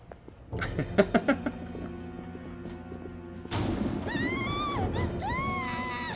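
In Persona 5 Royal, a crash and a few heavy thumps are followed by rising and falling wailing screams that carry over a sustained musical tone, loud and close.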